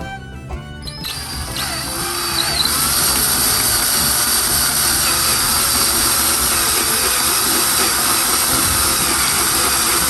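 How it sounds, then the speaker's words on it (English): A drill reams metal on the rear brake of a classic Ford, starting after a few clicks and then running as a loud, continuous high-pitched whine to the end. "Now when drilling metal like this, you don't want it to be on a super high speed"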